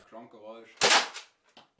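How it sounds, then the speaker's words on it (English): A Nerf Centurion Mega Series dart blaster fires with a sharp double crack, a loud burst followed by a fainter second snap, right after a short stretch of talking. "that double sound when you shoot the blaster"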